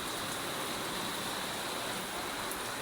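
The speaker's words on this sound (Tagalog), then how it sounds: "Sobrang lakas ng ulan." A dense, steady hiss of heavy rain pours down continuously on a truck, loud and close, with no pauses, heard from inside.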